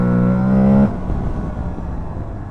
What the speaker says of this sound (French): le moteur, il est motivé, vivant